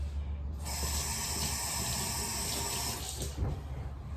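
Running water streams steadily from a tap as white yucca flower heads are rinsed under it, a close, continuous gush with a brief splash near the end and no talking.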